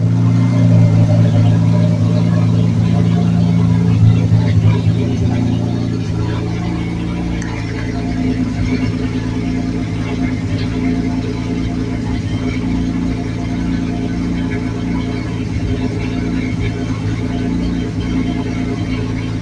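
A turbocharged Ford 300 inline six swapped into a Torino runs steadily in a low droning idle, close and continuous, slightly louder at first and then settling.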